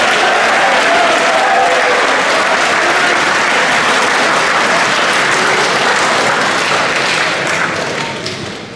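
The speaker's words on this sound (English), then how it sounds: "So give a round of applause to Jack Wilczak." Loud, sustained applause from a crowd at a high school athletic awards night, an even wash of clapping for a basketball player that holds steady and then fades near the end.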